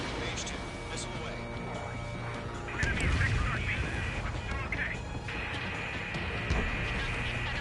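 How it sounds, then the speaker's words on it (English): A missile launch in Ace Combat 7 comes as a sudden rushing whoosh and roar amid dense combat noise and background music, with radio voices talking over the action. "Mage 2, missile away."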